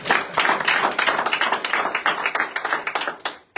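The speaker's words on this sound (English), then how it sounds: "A round of applause to them." A crowd at a Free State office opening claps in a dense, steady round of applause that fills the whole stretch, then cuts off abruptly at the end.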